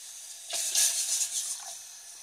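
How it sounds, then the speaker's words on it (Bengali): Water is poured into a heated pot to make restaurant-style tea at home, giving a close, sharp hiss and sizzle that lasts about a second and a half before fading. "2 কাপ পানি নিয়ে নিচ্ছি"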